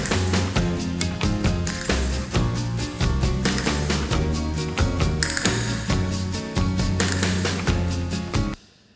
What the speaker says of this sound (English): but then you also have those castanet roll type of things,